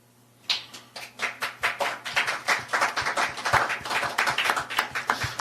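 An audience at an international forum on Indo-Pacific alliances breaks into clapping that starts after a short pause and settles into a fairly rhythmic, moderately loud patter of hands.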